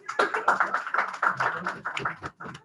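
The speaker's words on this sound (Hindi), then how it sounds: "इनके लिए भी तालियां" An audience in a digital marketing class claps together, a brief burst of dense, uneven hand claps with some murmuring, close and moderately loud.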